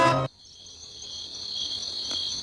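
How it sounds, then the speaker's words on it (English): Crickets chirp in a continuous high, trilling drone, steady and moderately near, following a brief burst of another sound that cuts off abruptly at the start. "Hear that? Insects are everywhere."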